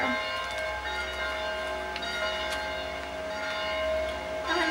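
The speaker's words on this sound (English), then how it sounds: "listen to the bells in the meantime." Bells ring steadily, their resonant tones overlapping and sustaining throughout, with a few brighter strikes standing out; no voices.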